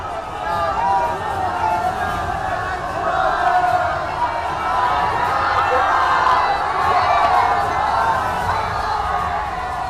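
Street crowds in Bankura, West Bengal cheering Prime Minister Narendra Modi on his way to a rally ground, a dense steady roar of voices and shouts that swells and fades slightly, with babble mixed through it.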